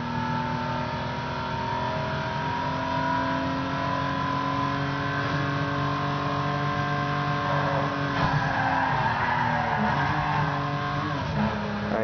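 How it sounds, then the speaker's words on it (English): A car in the video game Midnight Club LA climbs uphill, its engine droning steadily with shifting revs and brief tire skids, loud and continuous without any speech. "Let's see this car going uphill."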